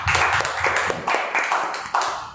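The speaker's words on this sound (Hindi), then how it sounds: "तालियों के द्वारा परमेश्वर की महिमा करें।" A church congregation at a midweek service claps in unison, a series of loud, close, rhythmic bursts of hand claps.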